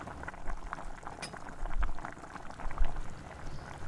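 A pot of dappalam, a tangy vegetable stew with tempering, simmers and bubbles on the stove. Soft bubbling and gurgling continue steadily at close range, with no talking.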